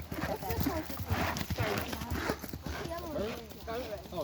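A horse's hooves clip-clop in a steady walking rhythm outdoors in the woods, close by, while people talk over them.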